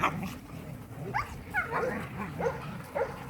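Dogs met on a walk give several short barks and whimpery yips at a moderate distance, scattered irregularly over outdoor background noise.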